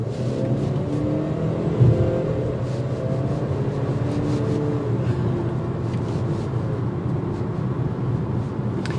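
A 2023 Volvo XC40 SUV accelerates on a test drive, its engine a loud, steady drone heard from inside the cabin that holds firm throughout with a faint rising whir.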